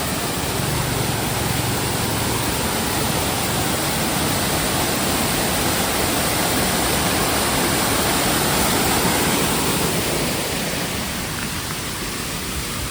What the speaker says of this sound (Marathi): जो डाव्या बाजू धबधबा आहे तो जरा त्या पाण्याला फ्लो जास्त आहे